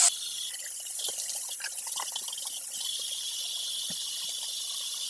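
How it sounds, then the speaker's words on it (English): Hot water runs steadily from a tap into a sink to rinse spilled borax out of the pipes, a continuous close splash and trickle for several seconds. "Run hot water to clean out the pipes from any borax you may have spilled"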